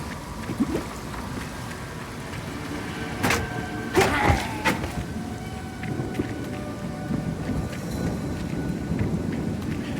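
Crackling thunder bursts from a falling-thunder skill effect in the action RPG Path of Exile 2, sharp strikes near the middle over a steady rumbling, rain-like wash throughout.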